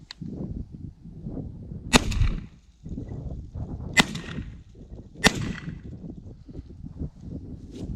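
A CZ 1012 semi-automatic shotgun fires at clay targets outdoors: three sharp, loud cracks spaced a couple of seconds apart over a quiet background with faint low rumbling between shots.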